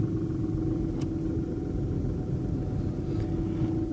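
A manual car pulls away as the clutch is released, giving a steady low engine rumble and road hum, close and continuous with no talk.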